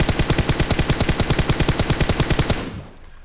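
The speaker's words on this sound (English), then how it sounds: "Let's go ahead and fire headshots." Rapid automatic gunfire aimed at a target in a video game, a steady burst of about twenty evenly spaced loud shots over two and a half seconds, then cutting off into a fading tail.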